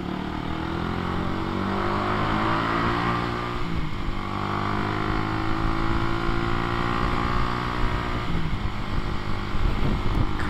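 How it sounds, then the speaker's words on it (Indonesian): Night motorbike ride near Babat, Lamongan, East Java, with two trucks travelling slowly side by side ahead. A steady close engine drone and rushing wind continue throughout, with pitch dips and rises around the fourth and eighth seconds. "Wah, ini truk dua saling berdampingan"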